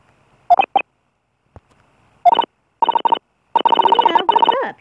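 Cell phone dialing from the Ace Attorney video game: a series of short electronic keypad tones in quick bursts, then a longer run of rapid beeps and a warbling ring tone, clear and close with no talking.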